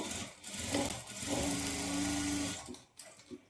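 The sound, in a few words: sewing machine stitching blouse lining at armhole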